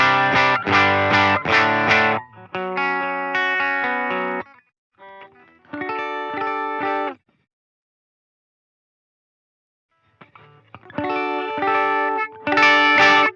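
Electric guitar run through an HX Stomp amp model with the drive turned up, giving crunchy overdriven chords in short bursts separated by pauses, close and fairly loud with a touch of chorus and reverb.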